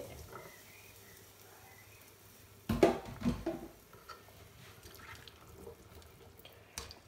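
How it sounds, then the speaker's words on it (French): Rinsed, still-wet chickpeas tipped into a pot for a sweet potato curry make a short splashy, dripping clatter midway, with faint drips before and a small splash near the end against quiet background. "Et il n'y a plus qu'à rajouter les pois chiches que j'ai bien rincés. Oula, hop, c'est encore bien mouillé."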